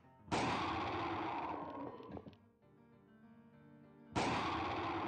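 Two loud, sudden gunshots from The Crooked Man horror video game, one near the start and another near the end, each followed by a ringing decay and a lingering tone between them.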